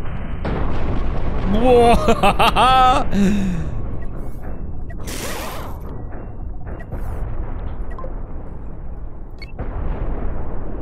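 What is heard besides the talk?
rocket explosions in the video game Cosmoteer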